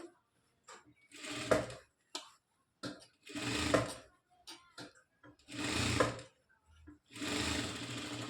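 A sewing machine stitches a blouse in four separate bursts of steady whirring, each a second or two long, with short quiet pauses between them and faint handling noises in the gaps.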